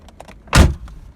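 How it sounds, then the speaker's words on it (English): The door of a 1985 Corvette makes a few light latch clicks, then one loud, solid thud as it shuts close by. "I can open the door,"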